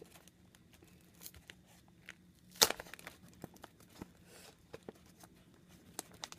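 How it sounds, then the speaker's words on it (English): Lindor milk chocolate truffle packaging torn and crinkled by hand, with one sharp rip followed by scattered close crackles and soft rustles in a quiet room. "The next one I'm going to be tearing are these little Lindor milk chocolate truffles"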